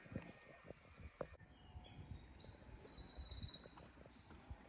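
Birds call by an estuary beach, faint high chirps and whistles scattered over quiet distant background noise.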